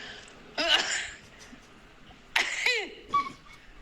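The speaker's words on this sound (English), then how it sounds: "Oh, I'm going to sneeze." A person sneezes twice in quick succession, loud and close, followed by a short sharp exhale.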